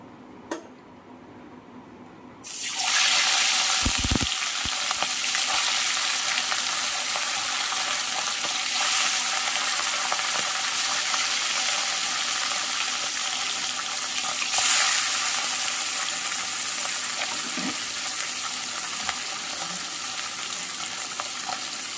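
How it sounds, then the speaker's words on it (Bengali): Bata fish frying in hot oil in a home kitchen: after a quiet opening, a loud, steady, crackling sizzle bursts in and continues unbroken, with a brief knock of utensils early on. "মাছটা ভাজা হতে থাক"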